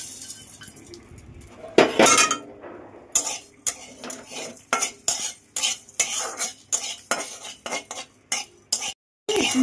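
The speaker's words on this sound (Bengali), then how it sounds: "গরম হয়ে গেছে, মশলাটা আমি ভেজে নেব।" Whole coriander seeds, black peppercorns and a dried chili are dry-roasted in a pan with a utensil, giving a steady run of close scraping, rattling and clinking strokes with brief pauses and no talk.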